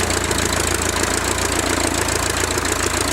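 Engine of a 1912 Taube F aircraft running on a ground test, a loud steady rhythmic knocking idle with no voices.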